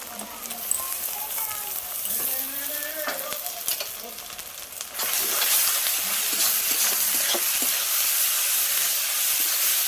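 Ginger garlic paste and onion fry in a pan with a continuous hissing sizzle that swells noticeably louder about halfway through. A voice is faintly present in the first half.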